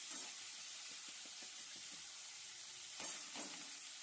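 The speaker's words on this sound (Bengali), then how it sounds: "ঘিয়ের মধ্যে আমি চালটাকে ভেজে তুলব।" Rice fries in ghee in a wok with a quiet, even sizzle and soft hiss. Light stirring scrapes come through, with a couple of slightly stronger scrapes toward the end.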